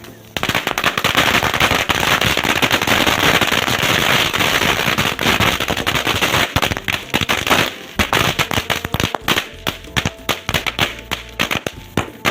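A long string of bidi bomb firecrackers, around 40,000 of them, goes off in a loud, rapid, continuous crackle of bangs close by, thinning toward the end into scattered separate pops.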